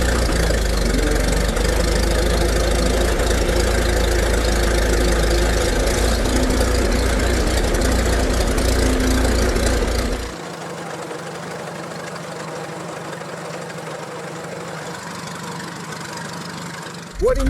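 A Fordson-Putilovets tractor engine idling while it warms up on gasoline, a loud, steady, knocking chug that suddenly drops to a much quieter, thinner running sound partway through, then lifts again briefly at the end.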